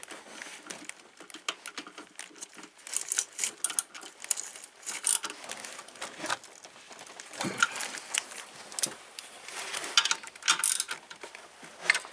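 A Pittsburgh Pro stubby flex head ratchet wrench clicks in irregular bursts while working on an alternator in a Chevy Venture engine bay, close and fairly quiet, with metallic rattles between the runs of ratcheting.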